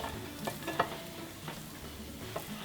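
Chopped cooked chicken, four cups of it, tumbles into the bottom of a casserole dish for a keto chicken bacon artichoke bake, giving soft scraping and thudding clatters in a few quick bursts at close range.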